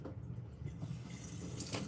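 Tap water runs steadily into a sink to rinse out a container during a home water-testing demonstration, a close, continuous splashing hiss with no talking.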